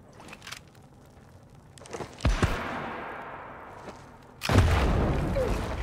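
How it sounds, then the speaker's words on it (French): A TNT explosion in the video game Guncho: a sharp blast bursts in after a few quieter thumps and clicks, loud and close, followed by a rumbling decay. "L'explosion de la TNT m'a poussé contre le mur, ça m'a stun."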